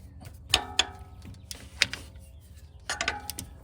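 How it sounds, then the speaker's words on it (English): A ratchet works on the 14 mm alternator bolts of a 2012-2017 Toyota Camry, giving close, crisp bursts of fast metallic clicking separated by short pauses and a few sharper clacks. "all we got to do now is take the two 14 millimeter bolts out"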